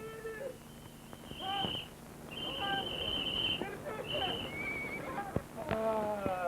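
A horse whinnies several times with hooves clattering, while people shout and talk loudly nearby.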